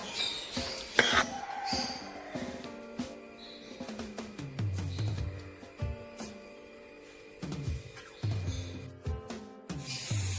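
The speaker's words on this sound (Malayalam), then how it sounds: "ഇനി ആ മസാല ചിക്കനിൽ പിടിക്കുന്ന രീതിയിൽ നന്നായിട്ട് തന്നെ മിക്സ് ചെയ്ത് കൊടുക്കാം കേട്ടോ" Chicken pieces being mixed with masala by hand or spoon, irregular rubbing, scraping and soft knocks against the vessel, close and moderately loud, with uneven pauses between strokes.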